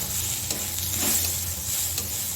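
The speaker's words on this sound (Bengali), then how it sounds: "এই ডালটা আমি এখন দিয়ে দিলাম, একসঙ্গে আমি এটাকে ভেজে নেব।" Washed masoor lentils fry with lightly browned onions in a pan, a steady loud sizzle carrying the occasional scrape of a spatula stirring them together.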